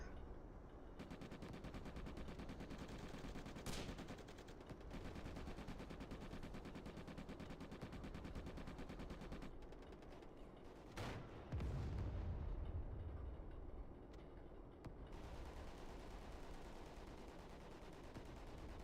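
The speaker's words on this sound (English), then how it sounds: "Is that a mortar hitting here?" Mortar shells land during a round of the WWII Online game, heavy booming impacts over a continuous dense wash of battle noise, with a few sharp louder blasts standing out from the steady roar.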